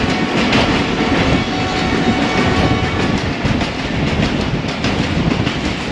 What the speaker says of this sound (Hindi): ट्रैक साउंड्स इधर बहुत ही ज़बरदस्त आ रहे हैं, तो चलें ट्रैक साउंड्स को एंजॉय करते हैं।